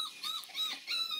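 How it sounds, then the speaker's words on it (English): Puppies of a cow dog whimpering and yipping softly in the background, a few thin high whines rising and falling over about a second, faint and fairly distant. "the puppies back there are Kismets"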